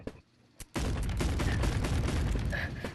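An RPG fires in the video game Animal Company: a short faint click, then a sudden loud blast that rolls on as a dense, crackling roar to the end.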